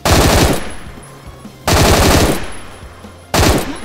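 Gunfire in the Roblox video game: three loud bursts of rapid automatic shots, each lasting about half a second to a second, separated by fading echoing tails.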